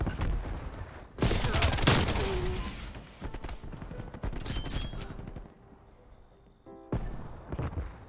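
RPD light machine gun firing in Call of Duty Cold War, a long rapid burst followed by quieter battle noise and clatter, then a second short burst.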